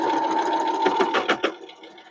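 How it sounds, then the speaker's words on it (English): A sewing machine stitches a quilt through thick joined fabric seams, whirring steadily, then louder, knocking thumps as the needle punches over the bulky hump before the motor winds down. "That loud noise you heard was my fabric going over the hump where all of our fabric is joined together."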